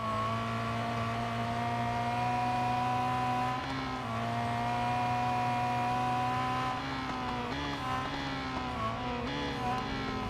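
A car engine races in the Real Racing 3 video game as a continuous, loud, buzzing drone that holds steady, with brief pitch shifts where gears change.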